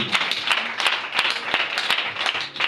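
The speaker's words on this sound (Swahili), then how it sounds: "Ongeza makofi." Church congregation applauding at a miracle prayer service, a dense spread of hand claps with sharper bursts of louder clapping recurring through the short stretch, steady and moderately loud with no talk.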